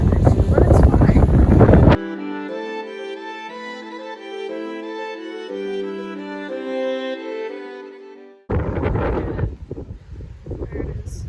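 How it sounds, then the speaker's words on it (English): Strong wind buffeting a microphone outdoors on a walk in Ireland: loud roaring gusts at the start and again at the end, with a calmer stretch of music in between. "It is very windy."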